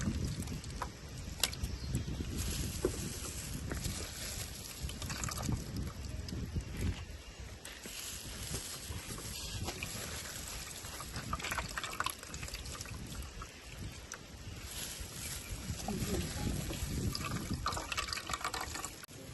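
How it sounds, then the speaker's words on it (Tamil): Water runs and splashes steadily for the whole stretch as fruit pulp is squeezed, a close, continuous gush with no voices over it. "இங்கே பாருங்கள் எப்படி தண்ணி வருது."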